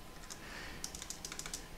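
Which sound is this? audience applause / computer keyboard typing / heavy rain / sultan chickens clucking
computer keyboard typing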